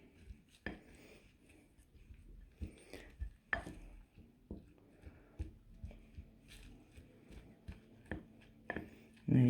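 Soap flakes are stirred in a bowl to melt them into a paste, with irregular scraping and knocking strokes of a utensil against the bowl, close and fairly quiet, and a voice speaking intermittently.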